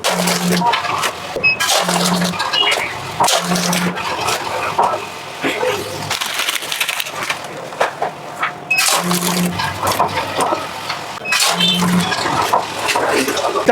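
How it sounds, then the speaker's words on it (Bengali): An automatic center-sealing snack packing machine bagging nimki, running in a repeating cycle of mechanical clatter with periodic short tonal hums from the sealer, loud and close, without talk. "এবার জাস্ট আমরা মেশিনটাকে স্টার্ট করব।"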